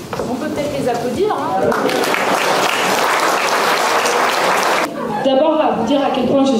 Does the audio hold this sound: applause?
yes